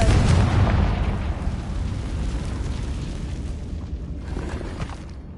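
A Confringo spell blast in the Hogwarts Legacy video game lands as a loud, deep booming burst that starts strong, then rolls and rumbles slowly away inside a cavernous space.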